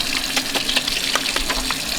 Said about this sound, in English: Wash my hands, alright?